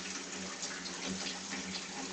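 Tap water running steadily into a sink while hands are washed, a constant close rushing wash with no pauses.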